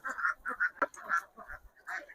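Several ducks on a confinement duck farm quack close by in quick, uneven bursts, with brief overlapping calls and short pauses between them.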